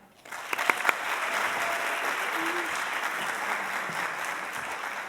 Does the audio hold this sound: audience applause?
yes